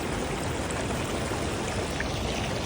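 Maruia Falls on a river in New Zealand's South Island, a small wide cascade in a carved rocky gorge, roaring as a loud steady broadband rush of falling water close by, with no voices.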